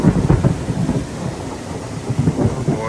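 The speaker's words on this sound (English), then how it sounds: "For the last 30, 45 minutes, it's been raining hard." Heavy rain pours steadily on the Appalachian Trail in the Saddlebacks while thunder rumbles in low, rolling waves, loud and close throughout.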